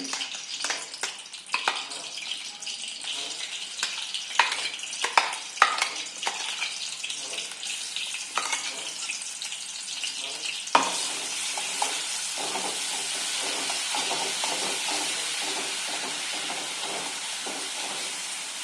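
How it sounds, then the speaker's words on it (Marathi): Potato masala with green chillies sizzling and hissing in a hot pan for an aloo paratha filling, with irregular scraping stir strokes at first, then a steady loud frying hiss. "त्याचा कच्चापणा घालवायसाठी हे एकदा परतून घेते"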